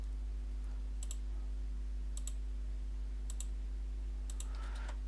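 Small mouse clicks tap out in quick double bursts about once a second, crisp and faint above a steady low electrical hum at a computer running Abaqus.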